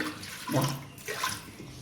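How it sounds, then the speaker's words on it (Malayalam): A brief splash and gush of water poured into a pot of lentils, rising and falling in two quick surges. "വെള്ളം ഒഴിച്ച് കൊടുത്തിട്ടുണ്ട്."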